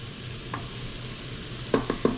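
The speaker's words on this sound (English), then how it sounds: "And you could just hear it sizzling there." Steady low sizzle of fried rice frying in a rice cooker, with a few sharp scraping stirs near the end.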